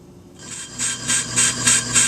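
A steady rasping scrape of metal as a front brake rotor from a 1995 Geo Metro is turned on a lathe, pulsing in a regular rhythm roughly every third of a second, close and moderately loud.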